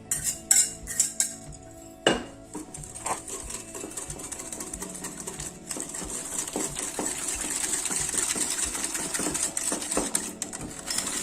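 Egg yolks whisked with sugar in a bowl for a lemon-strawberry entremet, a fast, steady metallic clatter of the whisk against the bowl running close and continuously after a few opening clinks.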